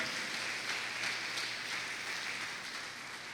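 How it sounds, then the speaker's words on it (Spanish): Soft applause from a church congregation during a sermon, a faint, even patter of many hands that sounds distant and slowly fades toward the end. "Dale un aplauso a Dios."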